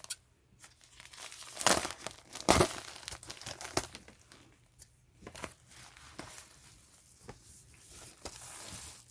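Doll packaging is cut through with crinkling, tearing plastic and cardboard, in irregular crisp bursts with a couple of louder rips early on, close and otherwise quiet.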